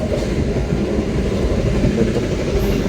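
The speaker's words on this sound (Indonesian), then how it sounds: "kereta api Jayakarta." Jayakarta passenger train, made up of 2017-built K3 economy cars, rolling along the rails with a steady low rumble and a continuous mid-level roar, heard from on board and with no voices.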